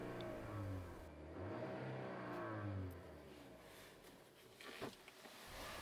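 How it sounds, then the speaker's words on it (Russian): Volkswagen Polo sedan with automatic transmission, engine revved while parked: low engine drone rising and falling in a few rev swells, close and steady, with no talk. "Немного погазуем."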